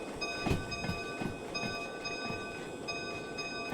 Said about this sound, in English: What is with the bell? It's a noise that trains make.